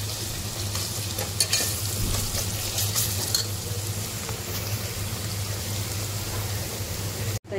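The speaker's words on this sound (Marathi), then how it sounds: "तर इथे आपलं कांदा फ्राय होते।" Chopped onions frying in a pan on medium gas for an egg biryani, a steady close crackling sizzle with light stirring scrapes, running continuously without talk until a sudden cutoff at the end.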